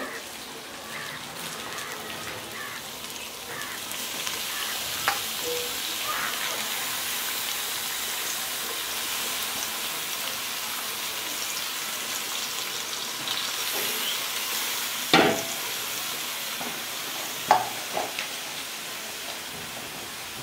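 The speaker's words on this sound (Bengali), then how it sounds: "মশলাগুলো ভালোভাবে কষিয়ে নিয়েছি, আর দিয়ে দিচ্ছি এখন ধুয়ে রাখা মাংসগুলো" Duck meat frying in a spiced masala paste in a pan, a loud continuous sizzle and crackle close up, with occasional sharper clanks of stirring against the pan and no talking.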